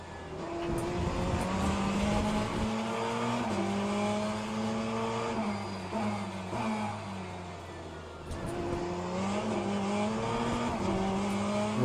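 Race car engine in the sim racing game Le Mans Ultimate during an online race, screaming steadily with pitch climbing and dropping through several gear upshifts, loud and continuous with no talk.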